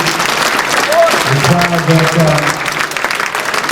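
Sustained applause from a crowd, dense and steady throughout, with a voice speaking underneath.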